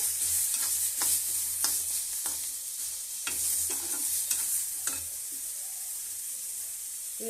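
Onion, green chili, coriander and tomato fry in oil in a pan for a chutney, with a steady close sizzle broken by scraping stirring strokes that thin out toward the end.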